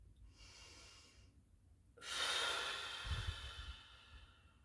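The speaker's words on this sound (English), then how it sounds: "let's take 3 deep breaths. Fill your lungs and exhale." A slow, deep breath drawn in and let out through the mouth during a calm guided meditation, audible up close in a quiet room, the long airy exhale louder than the soft inhale before it.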